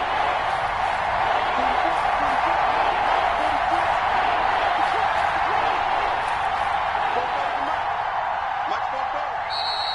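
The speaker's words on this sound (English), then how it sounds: "the crowd getting into it as we come up on a big 3rd down" A stadium crowd in an American football video game roars steadily ahead of a big third down, a loud, sustained wash of cheering that continues throughout.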